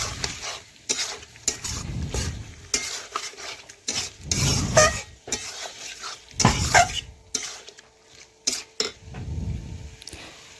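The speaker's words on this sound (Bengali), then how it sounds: "এইভাবে বেশ কিছুক্ষণ ধরে নাড়াচাড়া করতে করতে দেখুন অনেকটাই চিকেন রান্না হয়ে গেছে।" Chicken cooking in a pan while being stirred, with repeated bursts of scraping and clinking from the utensil against the pan over a low, steady sizzle, each burst separated by a short quieter gap.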